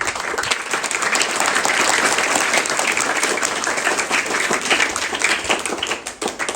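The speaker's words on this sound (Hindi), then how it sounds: "एक बार और ताली बजा दीजिए।" An audience at a spiritual talk by Rajyogi Hari Bhai breaks into loud, sustained applause, dense overlapping claps filling the room steadily, tapering slightly near the end.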